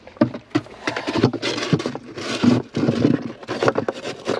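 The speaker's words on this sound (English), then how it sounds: "All right, we'll lower the pump down first." A sump pump is lowered into a plastic 5-gallon bucket, giving a series of close, uneven scraping knocks and hollow bumps as it slides into a tight fit.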